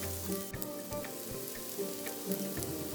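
Crushed red chilli sizzling and crackling in hot oil in a pan, a steady close frying hiss with scattered pops and a few stirring knocks, no voices.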